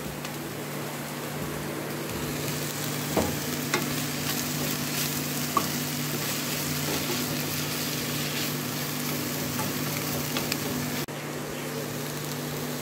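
Green chilies and kasuri methi frying in a pan for hariyali dahi mutton give a soft, continuous sizzle with a few faint clicks of stirring, steady and close throughout, no talking.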